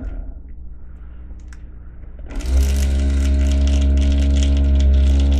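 A vortex mixer starts up about halfway through and rattles loudly and steadily, shaking an Ammo of MIG paint bottle wrapped in packing tape. Beforehand there is only a low hum and faint clicks.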